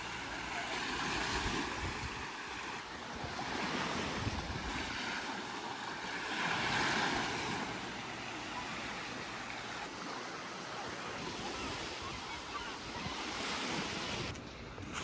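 Broadband surf wash of sea waves on the shore at Pāvilosta, a steady roar swelling and easing, with wind buffeting the microphone throughout.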